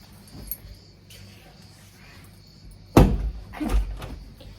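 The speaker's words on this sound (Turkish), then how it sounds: "Arkadaşlar kapıyı kırıyoruz." A sudden loud crack and bang of a door forced open, followed by a second thud, after quiet background.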